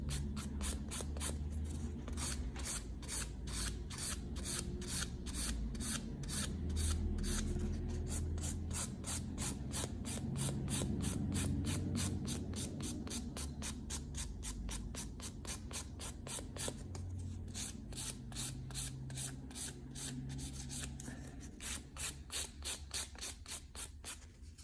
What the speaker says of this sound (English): just keep filing until you perfect the surface